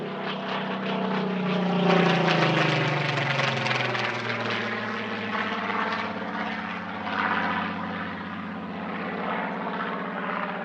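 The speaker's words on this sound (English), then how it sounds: "The Rolls-Royce Heritage Flight sent their Spitfire PR-19 representing Sweden's Cold War-era S-31s." Supermarine Spitfire PR-19 of the Rolls-Royce Heritage Flight, in temporary Swedish markings at an air force anniversary airshow, flying past with a loud, continuous propeller-engine drone whose pitch sweeps down early on, steady and uninterrupted.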